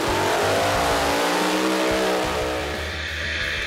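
Group 1 door slammer race car at Adelaide International Raceway roaring past, a loud, close engine with rising and shifting harmonic pitch, brief tire squeal, then fading slightly as it moves away.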